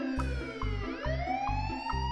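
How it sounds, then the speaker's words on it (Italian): A cartoon-style police car siren wails in a rising and falling two-tone pattern over a repeating bouncy musical backing, steady and loud throughout. "Police car."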